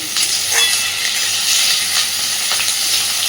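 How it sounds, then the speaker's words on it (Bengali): Chopped tomato and two slit green chilies fry with onion for piyaj posto, stirred in the pan. A steady, close, hissing sizzle plays on its own, with soft scraping now and then. "টমেটোটাকে একটু নাড়াচাড়া করে জাস্ট একটুখানি ভেজে নেব"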